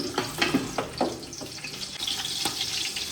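Onions frying and browning in a pan with green chillies for dal gosht, a steady soft sizzle with occasional light stirring clatter, close and moderately quiet with no talking.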